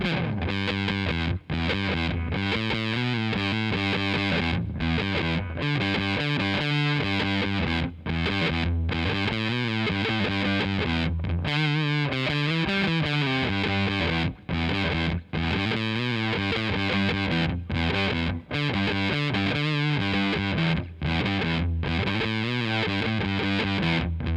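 Heavily distorted electric guitar through a Catalinbread Karma Suture pedal, knobs nearly all the way up, plays continuously for a long stretch, thick, saturated and buzzing, with chords and riffs and only brief gaps.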